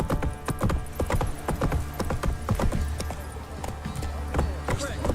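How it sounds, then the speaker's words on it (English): A horse's hooves pound in a rapid galloping clip-clop in The Witcher 3, steady and close throughout the few seconds. "Run, Roach."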